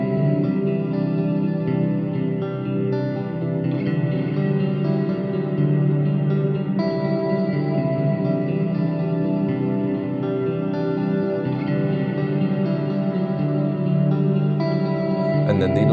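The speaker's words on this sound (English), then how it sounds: "the smear control basically smears all of these sounds into one big reverb wash" A smeared, washed-out reverb cloud from an Old Blood Noise Endeavors Parting pedal's smear control, with sustained guitar notes blurring into one dense, steady ambient wash that holds at an even level throughout, no talking.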